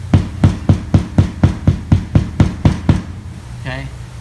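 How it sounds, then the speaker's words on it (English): Hammer tapping a drywall screw into a ceiling, about a dozen sharp, evenly spaced knocks close by, then a short pause and a faint trailing sound. "take your hammer, pull it out, then tap it."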